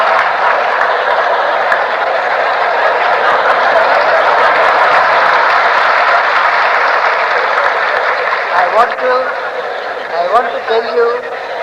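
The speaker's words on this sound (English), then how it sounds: "Don't be afraid to clap. If you wish to clap," Audience at a lecture hall clapping in a broad, sustained wash of applause that runs throughout and thins slightly toward the end, with faint voices underneath.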